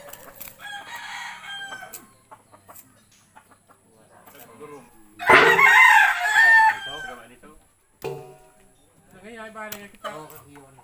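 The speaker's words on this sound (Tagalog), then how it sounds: "May manok, ang lakas." A red rooster on a rural farm lets out a loud, close crow midway through, with softer clucks and murmuring voices before and after it.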